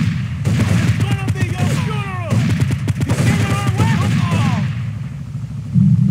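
Rapid gunfire in GTA 3 with a shotgun involved, a dense fusillade of loud sharp shots in bursts over rumbling engine noise, while voices talk throughout.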